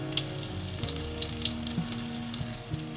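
Squid adobo ingredients fry loudly in a pan with cloves added, a dense close sizzle layered with stirring scrapes and occasional utensil knocks, no voices.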